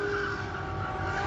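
Tires squeal in a sustained high screech from cars doing burnouts on a circle track at a street car night, with an engine roar underneath, continuous and fairly close.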